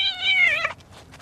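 A cat meows once, a clear, close, drawn-out call lasting over half a second that falls in pitch before cutting off into quiet.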